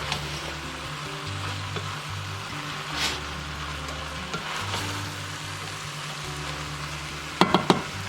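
Cold raw beans stirred into a chili pot sizzling steadily, with occasional scraping stirs through the frying hiss and a few sharp clinks of the utensil against the pot near the end.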